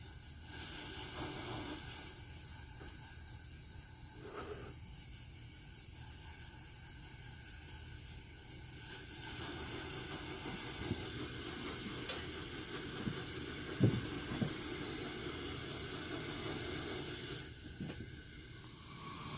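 Coleman 500 camp stove hissing steadily as its valve is opened fully and closed repeatedly to work the tip cleaner, a faint, even broadband hiss with small clicks and slight level shifts.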